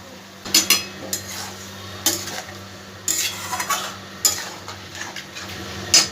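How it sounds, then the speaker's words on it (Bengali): Potatoes tossed with spices in a pan, a metal spoon stirring and scraping in repeated clattering strokes against the pan, with a soft sizzle of frying underneath and no talking. "মশলার সাথে ভালো করে এটা মিশিয়ে নেব আলুটা"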